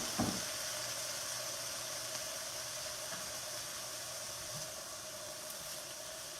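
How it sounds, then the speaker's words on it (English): Peeled shrimp sauteing in a pan for shrimp and asparagus lemon risotto, giving a steady, even sizzle that holds throughout with a faint clink near the start. "We're just sauteing these."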